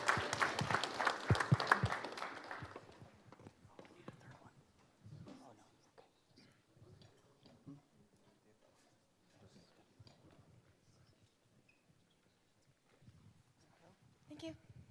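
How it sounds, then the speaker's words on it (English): An audience applauds as a team takes the stage at a university pitch challenge event: loud, dense clapping fills the first couple of seconds, then quickly dies away, and quiet talking follows. "Give them a big round of applause."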